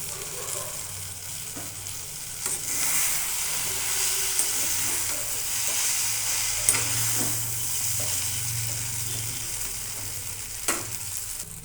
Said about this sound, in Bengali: আগে থেকে একটু আলু আর বিনস করে ভেজে রাখছিলাম, এই যে এর মধ্যে দিয়ে দেব। সব একসঙ্গে মিশিয়ে নেব।